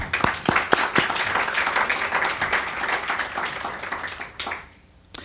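Audience applause at a legislative summit, dense clapping from a crowd that holds steady with a few sharper claps and then fades out near the end.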